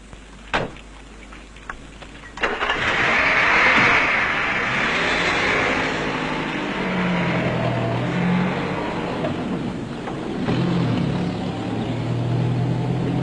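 A Kurdish jeep in the mountains near a battle zone arrives with a couple of door thumps, then drives on with a steady engine drone and shifting revs over a rough road.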